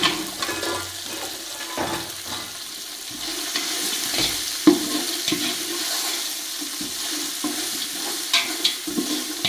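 Green chillies, about twenty of them, stirred and sautéed in sesame oil in a pan for a Kerala-style fish pickle, giving a steady soft sizzle with scraping stir strokes and a few sharper clinks, close and alone.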